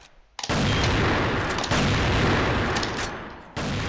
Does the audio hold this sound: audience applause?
no